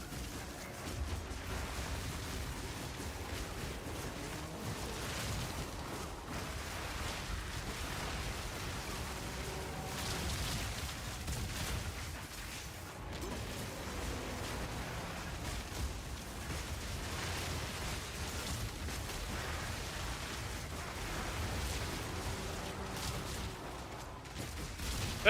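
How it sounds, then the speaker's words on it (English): Repeated explosions on the ground in a video game, dense rumbling blasts and crackling bursts packed together in a continuous, chaotic barrage at moderate loudness. "There's a lot of explosions on the ground."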